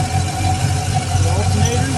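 A car engine idles steadily at close range, a continuous low rumble with a hum on top. Voices can be heard faintly under the engine.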